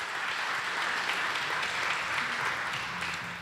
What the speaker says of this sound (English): can I give her a round of applause?